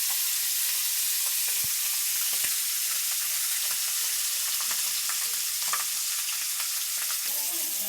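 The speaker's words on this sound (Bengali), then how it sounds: "পাঙ্গাস মাছ ভাজতেছি।" Pangas fish frying in oil in a home kitchen, a steady close hiss and sizzle with small crackling pops throughout, no voices.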